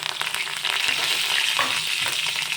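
Curry leaves dropped into hot oil with cumin and asafoetida, a loud dense crackling sizzle that holds steady and close throughout.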